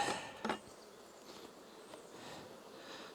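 Steady, soft droning buzz of many honey bees, with a brief louder rustle at the start.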